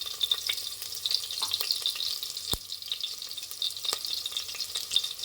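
Onion, ginger and garlic fry in a hot pan with a steady, close sizzle, broken by light stirring scrapes and a single sharp clink.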